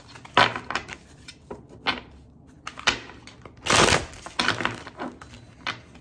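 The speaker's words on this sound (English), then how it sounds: "That's how I always shuffle my cards" Crisp papery snaps and riffles of playing cards being shuffled up close, coming in uneven bursts with a longer ruffling burst midway.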